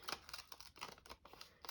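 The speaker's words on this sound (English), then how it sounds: "Deckle scissors when you want to have something kind of jaggedy" Deckle scissors snip through paper in a quick run of crisp, close cutting clicks, about eight short bursts spaced evenly over under two seconds, fairly quiet and with no voice.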